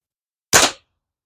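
A single sharp crack from an Air Venturi OmniStorm break-barrel air rifle firing a roughly 7.9-grain pellet, loud and close, with a quick decay into silence.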